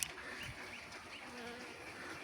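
Honey bees buzz at a beehive frame during a Uzbek winter hive inspection, a faint, continuous close drone with no talk.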